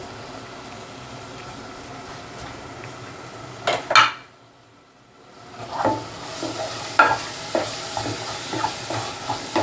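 Chicken keema with potato, turmeric and masala sizzles in a pan while a spoon scrapes and stirs it, with clattering knocks against the metal, a brief quiet pause, then renewed stirring and sizzling.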